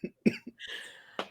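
A single person's cough, a few short bursts and then a longer rough exhalation ending in a final hack, close and fairly quiet, with no talking.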